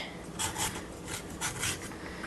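Knife shaving thin strips of rough skin off vegetables, a few close rasping scrapes in quick succession, alone without speech.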